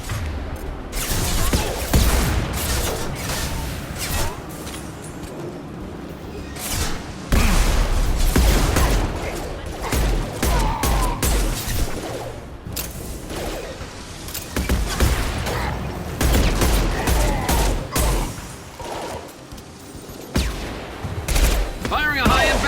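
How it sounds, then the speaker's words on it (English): Gunfire and explosive high-impact shots in the video game Mass Effect 2, with dense, continuous volleys, bursts and booms layered with game sound and music throughout. "Firing a high-impact shot!"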